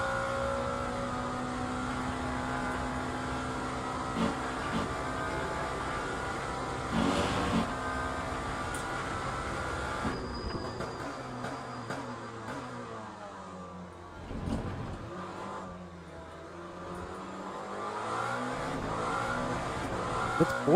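Porsche race car engine in Le Mans Ultimate, a steady high-revving whine held for long stretches, then dropping through downshifts with a dip in revs before climbing back up, heard alone without talk.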